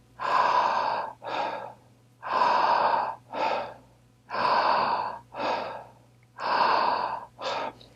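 Close, loud, rhythmic breathing runs through four cycles, each a long rushing inhale followed at once by a shorter exhale, with only brief pauses between cycles.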